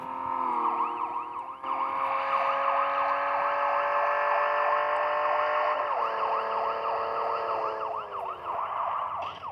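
A police car siren wails continuously and loudly at close range at night, its rising and falling tone cycling steadily with a slight shift in pitch partway through.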